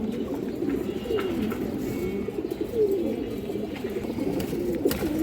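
Stone-eyed pigeons coo steadily nearby, a low rolling murmur broken by a few brighter rising calls and faint chirps, with no talking over them.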